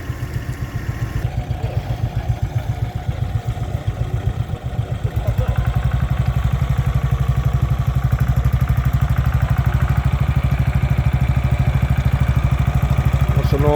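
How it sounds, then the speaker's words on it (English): An old Ransomes crawler tractor at a plough day chugs with a loud, rapid, steady diesel knock that settles into an even throb partway through, with faint voices in the background. "You can't beat the old Ransom crawlers. The engine's good and the tracks are good."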